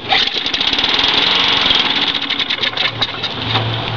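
A lawn mower engine with a plugged carburetor and burning oil runs roughly and loudly up close, a rapid sputtering chug lasting a few seconds.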